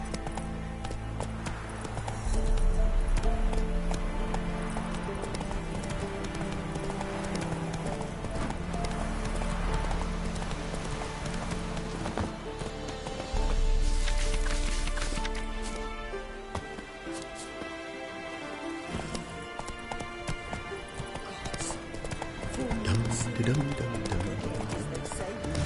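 A horse gallops in a video game, with rapid rhythmic hoofbeats and a whinny over a loud game soundtrack and effects, while people talk at times.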